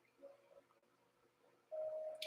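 A mobile phone gives a notification alert in a quiet room, a short bright tonal chime that rings out clearly over faint background noise.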